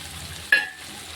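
Masala powders, chilli powder and curry masala, sizzle in a hot pan as a bean kootu is cooked. One close stir or scrape cuts in over a low steady frying hiss.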